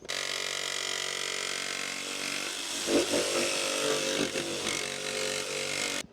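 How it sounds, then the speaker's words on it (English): Jigsaw cutting through factory sound deadening on a van body, a loud continuous buzzing saw whine up close that roughens and stutters midway before stopping abruptly. "This jigsaw will make it right through that factory sound deadening"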